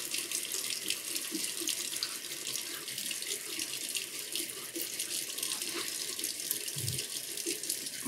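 Tap water runs steadily into a bathroom sink during a wet shave with a vintage Gillette Super 109 safety razor, a constant moderate splashing hiss with a brief hand movement through the stream near the end.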